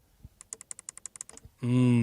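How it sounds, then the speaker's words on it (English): Climate control toggle switches in an Audi A3 S-Line 40 TFSI cabin clicked about a dozen times in quick succession, crisp and close, followed by a short burst of voice. "I can change the temperature with these nice clicking toggle switches."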